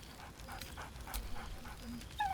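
High, wavering whimpers from a dog in Baldur's Gate 3 come in a quick series of short whines and pants, close and clear over a quiet game background.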